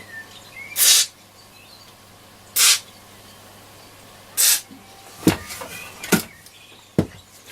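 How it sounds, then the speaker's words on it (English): WD-40 sprayed onto the small grub screws of a Roberts R200 radio: three short, crisp hissing bursts a couple of seconds apart, followed by a few light clicks and knocks, close and with no talking. "WD or something like that in there. Just in the little grub screws."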